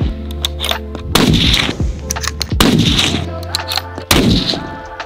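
Three loud, sharp rifle reports from a Sig Sauer Cross bolt-action rifle at an outdoor range, each ringing out with a long echoing tail, interspersed with mechanical clicks and clanks of the bolt being worked.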